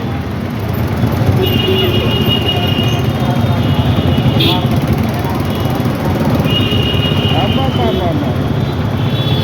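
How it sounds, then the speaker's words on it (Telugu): Loud, steady roar of heavy midday street traffic in Proddatur with engine rumble, passing vehicles and occasional high horn tones, no clear voices standing out. "ఏం ట్రాఫిక్ అయ్యా"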